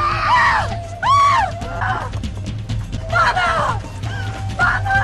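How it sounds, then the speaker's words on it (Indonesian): In a period royal drama film, a person screams and cries out for help, several loud, strained wails rising and falling in close succession over a low rumbling background. "Spontan ia pun berteriak dan meminta tolong."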